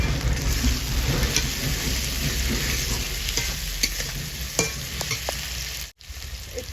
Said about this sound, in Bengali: এবার আমি টমেটো দেবো মশলাটা আমি ভালো করে এবার কষিয়ে নেবো